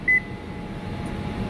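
A Panasonic inverter microwave oven's control panel gives one short, clear electronic beep, followed by a low steady hum of room background.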